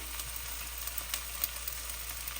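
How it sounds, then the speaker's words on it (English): Eggplant slices sauté with onions and tomato in a pan for vetha kozhambu, giving a steady, soft close-up sizzle with faint crackles throughout and no talking. "Add this to the onions and tomato, saute it a little bit"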